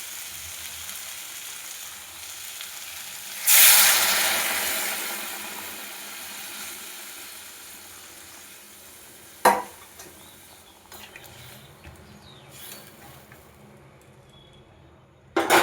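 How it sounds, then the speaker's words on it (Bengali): Hot water poured into a long-fried spice paste in a pan for a fish curry with okra and potato, bursting into a loud sizzling hiss that fades over several seconds, followed by quieter cooking noise and a couple of sharp knocks, with no talking. "এবার এর মধ্যে দিয়ে দেবো গরম জল।"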